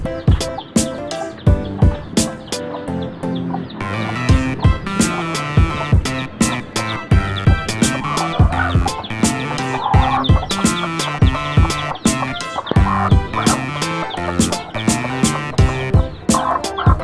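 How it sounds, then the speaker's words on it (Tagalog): Busy, dense peeping and chirping from many newly hatched chickens, continuous and fairly loud, with frequent sharp clicks and taps throughout. "Bagong pisa na manok."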